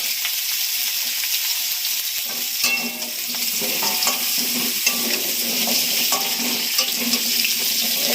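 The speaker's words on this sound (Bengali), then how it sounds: "এবার আমি কুমড়োগুলো দিয়ে দেবো, আলু ভাজা হয়ে গেছে দেখেন।" Pumpkin and potatoes with green and red chillies frying in a pan, starting quietly then breaking into a bright crackling sizzle with stirring scrapes as the vegetables go into the hot oil.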